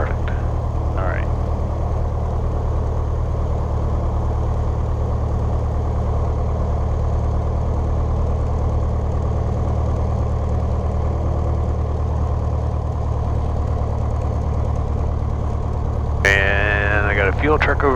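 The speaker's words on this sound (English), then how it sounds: "Engine's running." A small aircraft engine runs steadily on the ground at night, a continuous droning hum heard from the cockpit, with a short radio squawk or tone partway through.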